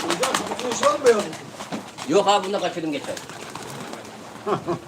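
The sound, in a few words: pigeons cooing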